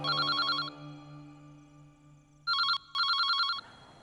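A telephone bell rings in trilling bursts, one ring, a pause, then two more close together, loud and near over a low hum.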